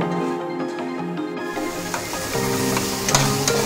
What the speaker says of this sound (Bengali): মশলাটা মোটামুটি ভাজা হয়ে গেছে মনে হচ্ছে।